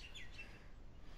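Birds chirping in the video game Deadside, a few faint high tweets early on over a quiet ambient background, with no talking.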